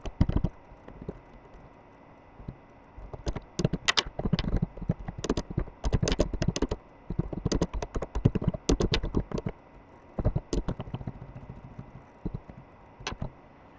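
Close, crisp keystrokes on a computer keyboard while entering C++ code, coming in irregular bursts of rapid clicking with short pauses between them and no talking.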